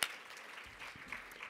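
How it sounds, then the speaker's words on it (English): An audience claps in a short, moderate burst of applause at a gathering, heard briefly and at some distance. "Give yourselves a round of applause."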